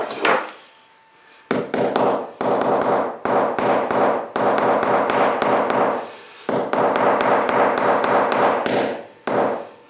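A hammer beats on a chisel screwdriver to break out a chipped mosaic tile, giving loud, close, rapid tapping strikes in long dense runs separated by brief pauses, with no talk.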